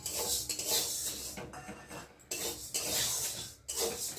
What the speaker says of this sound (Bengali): এখন এই যে বিউলির ডালগুলোকে দিয়ে কড়াতে দিয়ে একটু ভেজে নেব